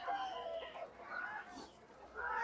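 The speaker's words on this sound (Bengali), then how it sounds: "দেখতে পাচ্ছেন প্রচুর দেশি মুরগি আছে" Native chickens at a market cluck and call in short bursts, fairly faint amid a general background hum.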